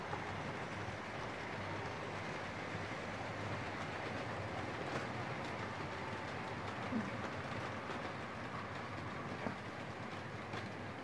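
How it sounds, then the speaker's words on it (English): A modified Hornby Mallard model locomotive, converted to chassis drive, runs along its track with a faint, steady whirring rumble and light rail clatter, quiet and continuous throughout. "There's our banana train."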